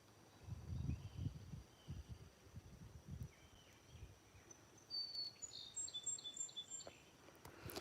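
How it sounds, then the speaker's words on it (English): Faint bird chirps and short whistled calls outdoors, rising in a brief series near the end over a low rustling, wind-like background. "I gotta be quiet and listen to the birds."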